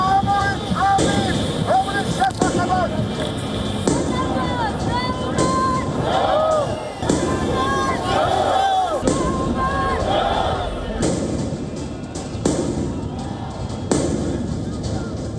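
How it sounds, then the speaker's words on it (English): Fireworks launched by protesters at police lines near the Georgian parliament crack and bang repeatedly amid a noisy crowd, with whistling rockets and sharp bursts through continuous shouting and chatter. "protesters launched fireworks at the police lines near the Georgian parliament"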